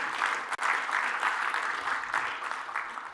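An audience clapping in a lecture hall, a steady, moderately quiet patter of many hands with a brief dip near the start, continuing evenly without voices over it.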